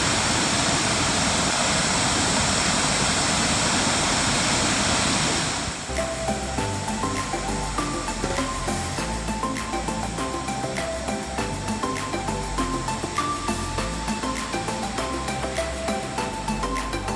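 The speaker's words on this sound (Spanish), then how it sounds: "Esto se llama la cascada de Kepler." Kepler Cascades waterfall in Yellowstone, a steady broadband roar of falling water, with music starting partway through and running over it to the end.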